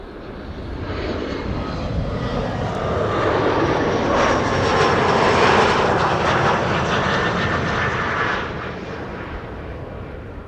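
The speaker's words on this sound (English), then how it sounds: "this is KLM flight 1788 arriving from Hanover" KLM Embraer 175 airliner arriving at Amsterdam Schiphol from Hanover, its jet roar swelling as it passes close overhead, peaking midway and then fading, heard alone with no talk.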